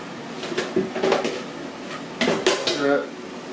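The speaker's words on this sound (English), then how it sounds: "So I'm going to get something out the cupboard where James is standing." Cookware comes out of a kitchen cupboard, with several close clanks and clatters of pots and metal utensils in two bursts, under light talk.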